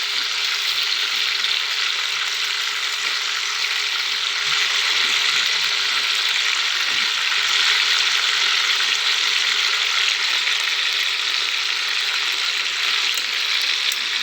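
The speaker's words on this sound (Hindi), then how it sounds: "अभी इसका हम पलटा करेंगे, इसका दूसरा हिस्सा इसको फ्राई करेगा थोड़ा" Chicken pieces for a chicken aloo curry fry steadily in a pan, a dense, continuous sizzle with crackling texture that stays loud and even throughout, with no talking.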